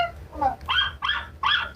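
Dogs give a short whimper followed by three quick, close, high yelping barks in an even rhythm, clear and fairly loud.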